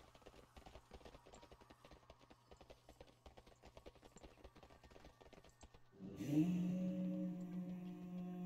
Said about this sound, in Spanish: Qué susto me ha pegado el caballo.